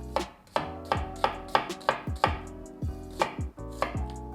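About a dozen crisp knife chops on a cutting board, slicing through onion in a steady, slightly uneven rhythm, close and clear.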